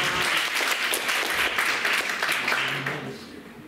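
Audience at a graduates' concert breaks into sustained applause, a dense, steady wash of many clapping hands that carries through without a break and fades only slightly toward the end.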